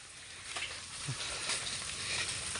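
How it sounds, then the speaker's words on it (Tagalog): Heavy rain pours down outdoors after plowing, a dense, steady hiss of falling water that stays loud and even throughout, with no one talking. "ito, lakas ng ulan"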